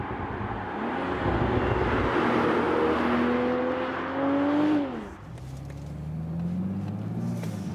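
A BMW Z4 M40i with a 3-liter six-cylinder engine drives steadily, its engine note rising in pitch as it pulls through the gears, dipping briefly at a shift, then building again from inside the car.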